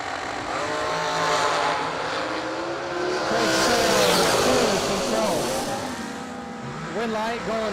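Multicolored nitro dragster at a drag racing Christmas event roaring down the strip, its engine note sweeping up in loud rising harmonic surges while an announcer talks over it.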